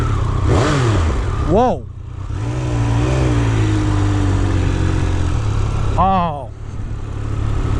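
A 1200 cc Triumph Speed Triple RR street-legal race bike revs loudly and close, its three-cylinder engine rising and falling in sharp throttle blips over a steady growling idle, with brief exclamations from a rider.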